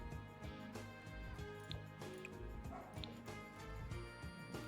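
A dog barks in short, repeated bursts with some yips, fairly faint and set against a busy, tonal background of music and game sounds from an indoor home-building stream.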